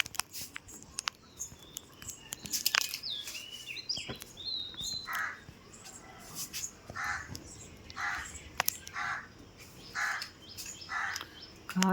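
Several crows caw repeatedly outdoors at moderate distance, harsh rhythmic calls recurring every second or so over faint background sounds and occasional clicks.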